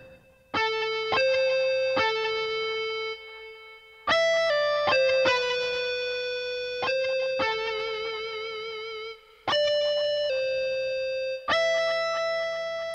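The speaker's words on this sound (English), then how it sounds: "Let's add a reverb." MIDI guitar played through a reverb effect, sustained distorted chords and single notes ringing out in several phrases with long reverberant tails, loud and alone with no talk.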